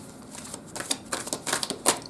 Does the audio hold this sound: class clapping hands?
no